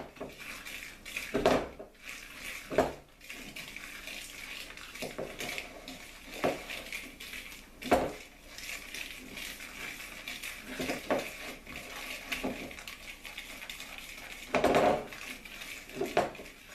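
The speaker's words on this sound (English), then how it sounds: "So I add the cornstarch and then I just stir that really good." Cornstarch stirred into homemade vanilla pudding in a pot, producing intermittent scraping and clinking of a utensil against the cookware, with a few louder knocks spaced several seconds apart over a quiet background.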